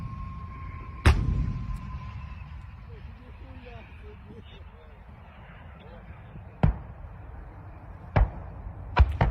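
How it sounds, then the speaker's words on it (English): A self-propelled artillery gun fires in direct fire in wartime Ukraine, heard as several sharp, far-off booms spaced seconds apart over a low rumble. "I don't think we've ever seen an SPG used in direct fire like this"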